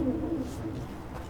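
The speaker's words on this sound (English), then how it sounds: "I think we just summoned a ghost owl." A ghost owl in the video game Dragon Age Veilguard gives a low, soft hooting coo over a dense background rumble, brief and close.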